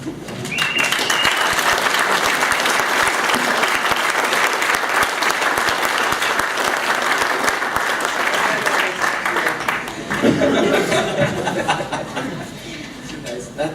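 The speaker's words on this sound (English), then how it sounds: "That's your round of applause." Sustained audience applause at a software conference talk, loud and dense from start to finish, with some chuckling and laughter mixed in and a brief swell near the end.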